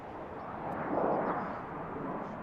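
Delta Boeing 737-700 landing on runway 10 at BWI, a broad, steady jet roar that swells toward the middle and eases off, heard from a distance outdoors.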